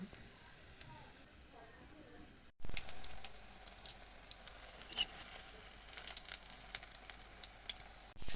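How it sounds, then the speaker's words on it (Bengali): Oyster mushrooms frying in oil over medium heat: a quiet low hiss that jumps after a brief gap into a denser crackling sizzle with small pops and spatters, close and fairly soft. "জালটাও মিডিয়ামে রেখে এমন লাল লাল করে ভেজে নিব"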